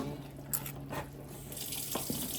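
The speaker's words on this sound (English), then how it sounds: "Throw off the water and put it to boil again." Cooking water poured off into a kitchen sink while making a Jamaican breakfast, a steady close splashing gush with a few brief clatters, no talk.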